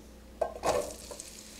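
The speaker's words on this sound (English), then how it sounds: "then we're gonna saute the onions right here" Onions sautéing in a pan over high heat: a brief burst of sizzle and stirring, starting with a short scrape and swelling into a louder hiss before fading back to a quiet hum.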